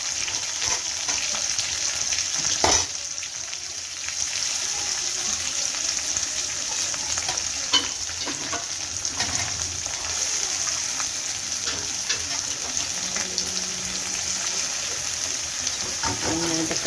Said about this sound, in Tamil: வெங்காயம், தக்காளி நல்லா வதங்கணும்.